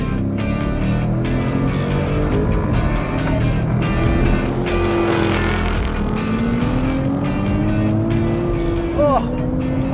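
A 2023 Nissan Z, a Mustang GT and a Dodge Challenger Scat Pack in a roll race: loud engines rev and roar continuously with rising pitch sweeps as gears shift, close and dominant throughout.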